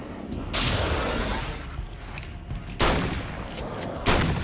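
Shotgun blasts in the video game American Nightmare 5, three separate loud booming shots spaced about a second or more apart, each trailing off over a low background.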